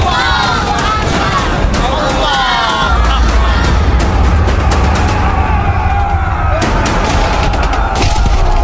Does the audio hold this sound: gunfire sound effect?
yes